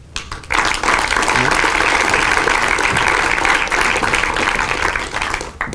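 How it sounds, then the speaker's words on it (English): A conference audience applauds a speaker being introduced, a steady wash of clapping that starts abruptly after a brief pause and holds evenly throughout, with a faint murmur of voices underneath. "I would like a warm applause for Lars Hupel."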